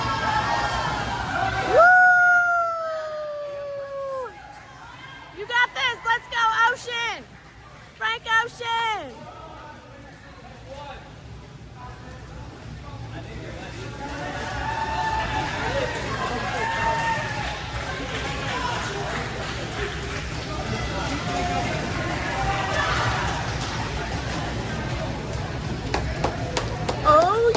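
A teacher and a crowd cheer and whoop at a cardboard boat race, with several sharp shouts standing out over a constant outdoor babble of voices that later swells into louder cheering.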